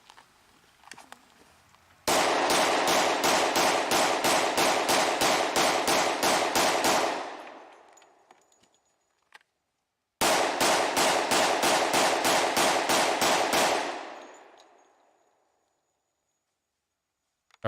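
Two long rapid strings of 10 mm pistol shots fire back to back, loud and sharp with an even cracking rhythm, each burst lasting about five seconds and followed by fading echo, separated by a short pause.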